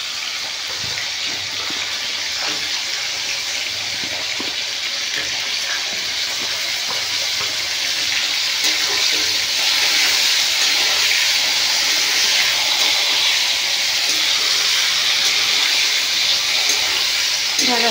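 Okra (bhindi) frying lightly in a pan for a village-style vegetarian ridge gourd and okra mustard-poppy dish, giving a steady broad sizzle and hiss throughout, fairly loud and close, growing a little stronger partway through, with no speech over it.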